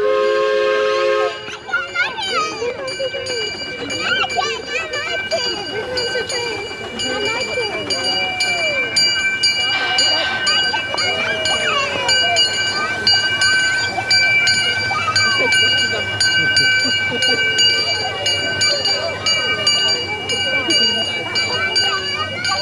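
A Redwood Valley Railway steam train ride in Tilden Park, Berkeley, with a steady rumble of rolling cars, sustained whistle or horn tones and a ringing bell, while people talk throughout.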